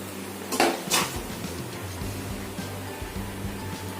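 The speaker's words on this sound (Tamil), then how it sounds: "நம்ம சர்விங் பிளேட்டில் வச்சு சர்வ் பண்ணிக்கலாம்." Mint mango rice served onto a serving plate: two quick, sharp clinks of a utensil against the dish, then soft scraping and low kitchen background.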